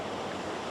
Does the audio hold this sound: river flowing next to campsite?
yes